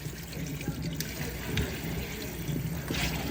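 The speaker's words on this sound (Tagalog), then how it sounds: "Hugasan mo nga yung kawaling lokal." Water runs from a tap into a sink as a local wok is washed, a steady moderate splash and trickle with small clanks, fairly close and without talk.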